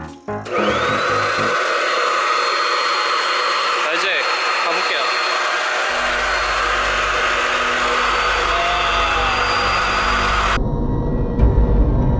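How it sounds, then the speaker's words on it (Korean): A vacuum cleaner switches on with a rising whine and settles into a steady, loud roar that runs for about ten seconds, with its pitch and low rumble shifting partway through before it cuts off abruptly. "청소기를 키고"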